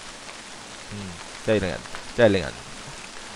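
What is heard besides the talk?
rain falling outside in a horror RPG video game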